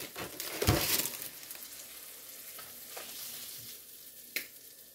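Meat added to a hot pan with tomato and onions for a hoagie filling, sizzling and frying close by while being stirred, with a few soft scrapes and clinks and no talking.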